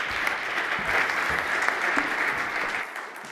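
Audience at a municipal transparency and open government panel in Spain applauding a speaker's introduction, a steady full clapping that holds loud, then thins and fades near the end.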